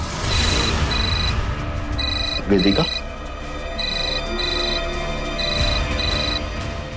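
A telephone rings in a tense home crime drama scene: a bright, repeating electronic double-ring pattern of evenly spaced pulses, with a short voice spoken between rings.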